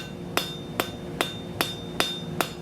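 Six evenly spaced, ringing hammer blows strike a hand-forged iron scroll on an anvil while bevelling it, each a sharp metallic clang about every 0.4 seconds over quiet background.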